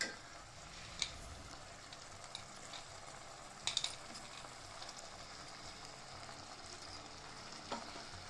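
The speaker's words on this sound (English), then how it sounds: "Fry it for 2 minutes. Mix it well." Ground masala fries in a pan for South Indian tomato rasam, making a soft, steady sizzle that runs the whole time, with a few faint metallic clinks from stirring and no voices.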